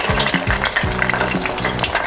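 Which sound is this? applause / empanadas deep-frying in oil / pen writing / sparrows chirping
empanadas deep-frying in oil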